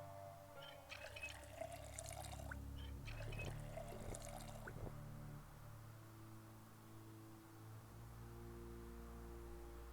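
Water running from a sink tap into containers in the Project Zomboid game: a faint pouring, trickling sound in two short bursts, then quiet hum, no talking.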